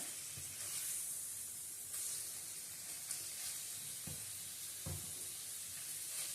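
Minced meat sizzles in a pan before any onion goes in, a steady close hiss of frying with a few soft stirring knocks and no voices.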